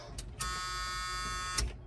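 A machine that will not start gives a steady electronic beep tone of about a second, close and clear, framed by brief clunks and handling noise.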